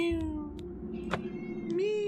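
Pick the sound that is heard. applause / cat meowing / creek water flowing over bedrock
cat meowing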